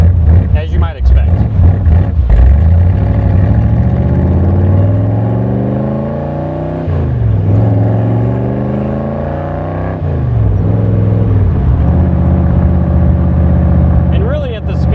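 A 1965 Superformance Cobra sports car's engine drones loudly and steadily while driving, with pitch rising and falling through shifts, a talking voice over it throughout.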